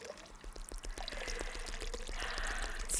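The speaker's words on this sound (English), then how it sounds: "I'm just going to slowly pour some water in." Water poured slowly from a jug into a bottle, a steady gurgling trickle with rhythmic glugs, close and continuous throughout without talking.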